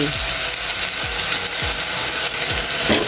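Vegetables sautéed with bagoong shrimp paste in a pan give a steady, loud sizzle, with a spatula scraping and stirring in rhythmic strokes about every half second.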